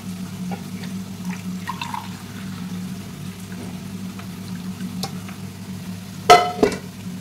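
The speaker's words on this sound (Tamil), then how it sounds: "அதனால நம்ம இப்போ 12 கப்பு தண்ணி வந்து ஊற்ற போகிறோம்" Water is poured from a cup into rice for mutton mandhi in a home kitchen, a short splashing burst near the end against an otherwise quiet, low background hum.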